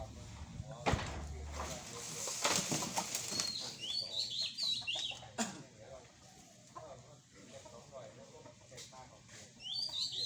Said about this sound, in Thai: นกเขาชวา บินลงมา หาเศษอาหารเศษข้าวที่ข้อไก่